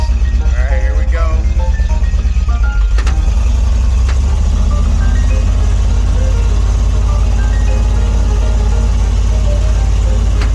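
A 1979 Dodge Power Wagon truck trundles along in first gear, its engine a loud, steady low drone that fills the cab throughout, with voices talking over it.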